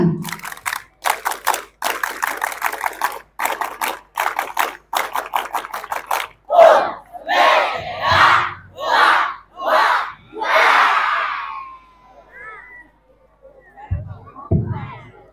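An audience performs a Scout clap chant, rhythmic bursts of group clapping in patterned sets followed by loud shouted chanting, at a school drug-awareness session; a voice speaks faintly near the end.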